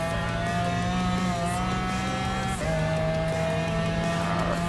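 Race car engines howl in Gran Turismo Sport's Group 3 endurance race at Autopolis while closing on a Chevy Corvette C7 Group 3, a loud, steady engine whine that drops briefly at a gear shift and then climbs again.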